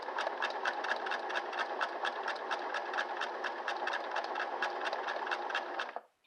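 A Singer 6212C sewing machine stitching bulky yarn in reverse, running steadily with a fast, even mechanical chatter and rattle for several seconds before stopping abruptly, with no talking.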